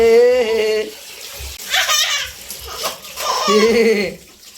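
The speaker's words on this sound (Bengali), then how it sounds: "এ কে স্নান করছে?" A six-month-old baby is bathed with water sloshing and splashing, heard under and between bright vocal sounds from the baby and an adult's voice, close and fairly loud.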